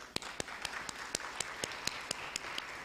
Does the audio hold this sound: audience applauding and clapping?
yes